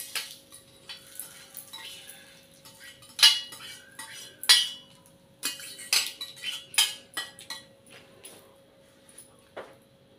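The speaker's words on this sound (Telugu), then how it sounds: "తాలింపు వేసి ఇలా కలిపేసుకుందాం అండి దీన్ని," A spoon stirs tempering into ridge gourd peel chutney, giving a string of sharp clinks and scrapes against a metal bowl at an uneven rhythm, close and clear with no talk.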